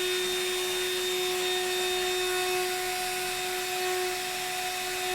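A CNC router fitted with a new spindle motor cuts a wooden wine caddy, giving a steady, loud, continuous high-pitched whine with broadband hiss. The tone holds constant throughout and no talk is heard.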